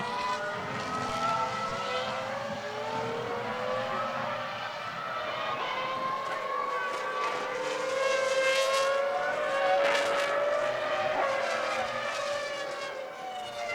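Formula 1 cars racing at Indianapolis during the 2001 United States Grand Prix, high-pitched engine whines rising and falling as cars pass, a steady layered roar with shifting tones and no commentary.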